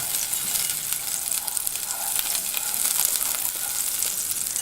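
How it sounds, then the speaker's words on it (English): Two tablespoons of butter melt over medium heat in a pan, making a soft, steady, close sizzle that continues evenly with no voices. "Start by melting 2 tablespoons of butter over medium heat"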